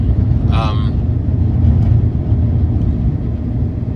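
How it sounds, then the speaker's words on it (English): A Tesla Cybertruck cruises on a highway, a loud steady low road and wind roar from inside the cab with a brief voice near the start. "No problem with the Cybertruck though, and with full self-driving."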